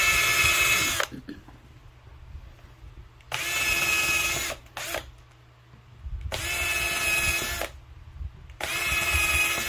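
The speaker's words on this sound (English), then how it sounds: "finish drilling your pilot holes." A power drill bores pilot holes in wood for a picket fence, running in three long whining bursts separated by pauses, close and loud with no talking.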